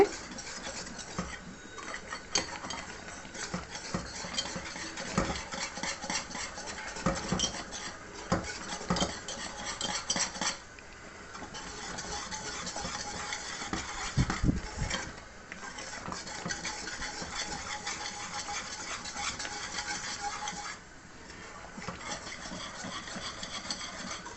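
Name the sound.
stirring thickened carrot milk dessert in a pot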